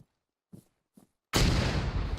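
Demolition charge set on mortar pits in ArmA 3: a few faint soft clicks, then a sudden loud, close blast that rolls into a sustained, heavy rumble.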